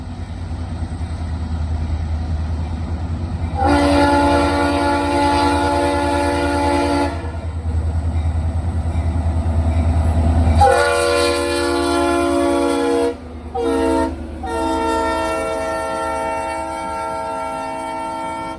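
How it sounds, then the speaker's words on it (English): A Norfolk Southern manifest freight train led by SD40-2 diesel locomotive 3397 rumbles past close by at Tyner, Tennessee, as a loud horn blasts in long and short bursts over the steady roar of the cars. "we recorded Norfolk Southern Manifest Freight Train 377 at Tyner with SD40-2 number 3397 on the point"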